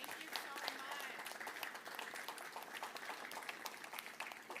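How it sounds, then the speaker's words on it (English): Crowd applause at an NFL Draft recap press conference in Detroit, a continuous rattle of clapping and cheering that stays fairly faint and distant, with a voice speaking over it. "please give yourselves a round of applause"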